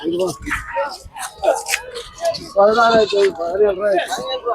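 Young goats bleat repeatedly at a busy Saturday goat market in Ettayapuram, Thoothukudi district, with loud, wavering calls close by mixed among people's voices.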